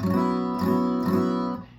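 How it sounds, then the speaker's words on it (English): A guitar strums a 2 chord with the lower bass string left out, ringing in a few sustained swells before the sound drops away near the end. "So if you were to not play the lower bass string, it would sound like this"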